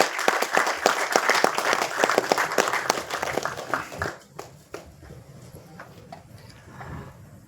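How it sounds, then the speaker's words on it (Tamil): An audience applauds in a dense, loud burst of clapping as writer, director and actor Cheran is welcomed onto the stage at an award event. The applause then thins out into a quieter, scattered room. "ஒரு பலத்த கரகோஷங்களுடன் எழுத்தாளர், இயக்குனர், நடிகர் சேரன் அவர்களை மேடைக்கு அழைக்கிறோம்."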